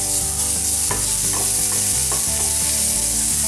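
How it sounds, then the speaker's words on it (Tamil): Ginger, garlic and green chili sizzle and are stirred in hot oil for a poori masala, a continuous frying hiss under steady background music. "இப்போ இந்த இஞ்சி பூண்டு போட்டுக்கலாம்."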